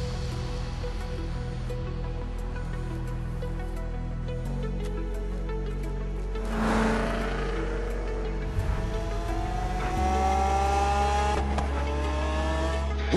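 Cars in Forza Horizon 3 drive under a constant loud engine drone, with a revving surge near the middle and a shift to a new engine tone near the end, all without talk.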